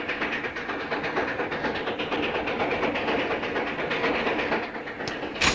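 A train rolls into a station, with a continuous, loud rumble and steady clickety-clack of railroad cars that holds throughout without pause.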